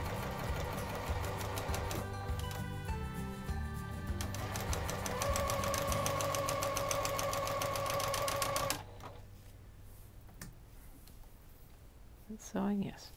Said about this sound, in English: It's sewing, yes.